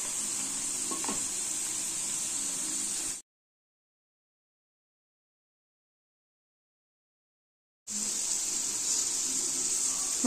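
Soaked peanuts fry in hot oil for a spicy masala peanut snack, giving a steady, close sizzle that cuts out to silence for several seconds before resuming.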